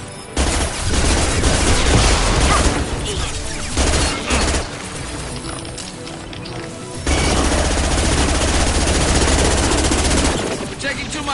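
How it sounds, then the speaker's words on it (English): Sustained automatic gunfire from a Mass Effect 2 firefight, loud and dense with rapid bursts and booms that ease off briefly before returning at full intensity, with a voice talking over parts of it. "We're taking too much fire."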